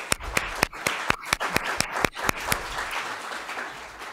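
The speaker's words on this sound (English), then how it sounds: "Let's take a moment and give her some applause." Audience at a report presentation claps for the report's author, a few sharp, distinct hand claps standing out over a softer bed of scattered clapping that fades after a few seconds.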